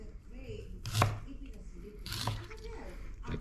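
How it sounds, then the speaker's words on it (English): Two crisp knife cuts through fresh ginger on a cutting board, spaced about a second apart, close and fairly quiet in a home kitchen. "I just wash them and then just slice it."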